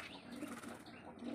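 Madrasi pigeons stir restlessly in a loft, with soft cooing and muffled flutters of wings over a faint, busy background, brief and fairly quiet.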